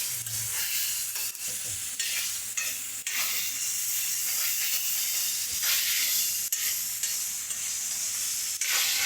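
Onions frying with masala powders until reddish brown for a gravy, loud continuous close sizzling and hissing with repeated scraping stirs throughout.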